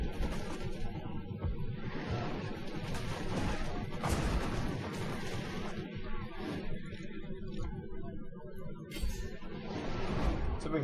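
Dwarf cannons and flamethrowers firing in a Total War: Warhammer battle: dense rumbling barrage with occasional sharp booms and cracks, continuous and fairly loud, battle noise throughout.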